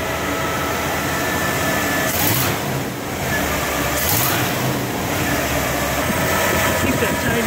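A 1963 Chevrolet Corvette split-window idles steadily, not yet warmed up, with a slight exhaust leak near a loosely fitted manifold tube; a continuous low engine rumble with a couple of brief louder swells, heard close by.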